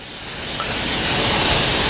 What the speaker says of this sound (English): We want to give this a good spray